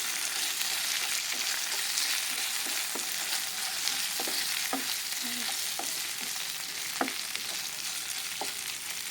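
Prawns fry in a pan for a Goan dish with a constant, dense sizzle and occasional sharp taps of a stirring spoon, close and steady throughout, with no voices.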